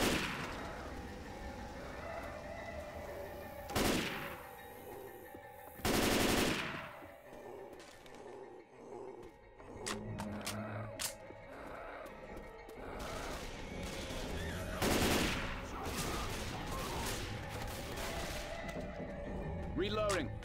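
Gunfire in the video game Left 4 Dead 2, with scattered single shots and a few bursts, some loud and close, over quieter game ambience, with no talking.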